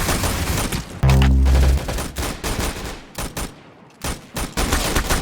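Rapid gunshots in the online shooter game Arsenal come in close, sharp volleys across the clip, broken by a brief low electronic tone and a short lull before more shots.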